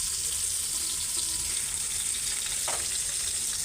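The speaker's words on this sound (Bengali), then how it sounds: "মাছটা একটু হালকা কড়া কড়া করে ভাজা দিব" Fish fries crisp in a pan, giving a constant close sizzle with light bubbling crackle and a faint clink partway through.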